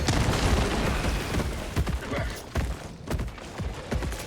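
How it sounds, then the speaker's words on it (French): Grenade blasts in the Helldivers bug-fighting game, with several loud booms and bursts of gunfire layered over a dense, continuous din of combat. "Balance une grenade."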